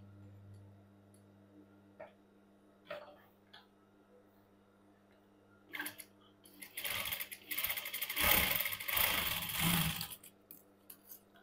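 A sewing machine stitches cigarette pant fabric, starting after a quiet stretch of faint taps and voice with a rapid, whirring run of stitching for a few seconds before stopping.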